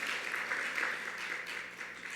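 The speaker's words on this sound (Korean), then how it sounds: "예, 박수로 환영하겠고요." A church congregation claps to welcome visitors during a Sunday service, giving a steady, dense wash of applause throughout the short stretch.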